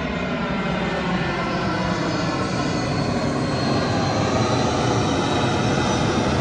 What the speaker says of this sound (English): and the plane is landing.